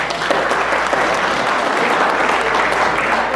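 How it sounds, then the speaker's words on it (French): Guests at a Haitian wedding ceremony in Brazil break into warm, steady applause, a dense wash of many hands clapping together close by, with no talk over it. "un applaudissement, non?"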